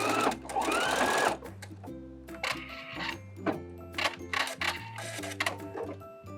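A sewing machine stitching a blind hem runs in bursts, its rapid mechanical whirring and clatter starting and stopping repeatedly at close range, with no voices.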